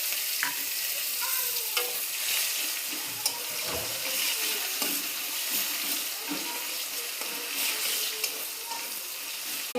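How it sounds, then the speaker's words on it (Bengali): Onions frying in cumin-tempered oil in a pan, a continuous close sizzle with scattered utensil scrapes as they are stirred, plus a faint trickle of water in the background. "পেঁয়াজটা ভাজা হয়ে যাচ্ছে লাল লাল করে"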